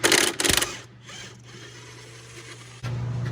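Ratcheting and metallic tool clicks as shock absorber bolts are loosened on a Cadillac CTS-V's suspension, with a couple of short close bursts at the start and a steady low mechanical hum underneath.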